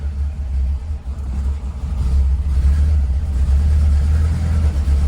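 An abandoned project car's engine rumbles as it moves off in drive, a loud, low, steady drone that swells slightly partway through, with no talk.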